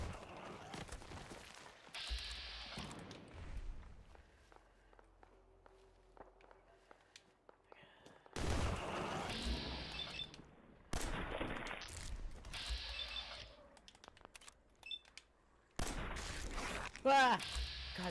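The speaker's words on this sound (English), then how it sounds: "I hear a gunshot, and that's not a good thing." Gunfire and combat sounds from the video game Fallout 4, with bursts of loud shots and blasts in several clusters separated by quieter stretches of footsteps and ambience, sharp and close.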